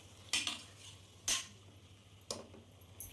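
A spoon scrapes and clinks against a pot three times, close and moderately quiet, while mutton is stirred in oil for a mutton curry over a faint steady background.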